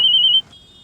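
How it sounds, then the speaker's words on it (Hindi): A phone rings with a bright electronic tone lasting under half a second before it cuts to a faint, thin continuing tone, close and clear, with no one speaking. "ये फोन आ रहा है"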